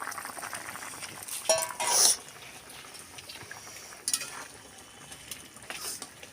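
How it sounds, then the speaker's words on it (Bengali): Fried lentil bori dumplings dropped into a simmering fish curry of fresh bata fish in a pan. Quiet bubbling runs under a few clinks and scrapes of a spoon against metal, with sharper clatters near the start and middle. "এবার আমি এই ভাজা বড়িগুলো দিয়ে দেবো।"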